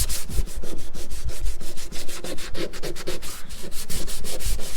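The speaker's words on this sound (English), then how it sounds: "just got some sandpaper, hitting it with our hands" A 1973 Plymouth Duster car body is hand sanded with sandpaper, making loud, close, rhythmic rasping strokes in a fast steady back-and-forth pattern throughout.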